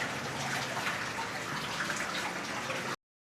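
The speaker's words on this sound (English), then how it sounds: "Alright, water's going in." Water filling a restored aquarium tank, a continuous close splashing rush at steady loudness that cuts off sharply after about three seconds, with no voices over it.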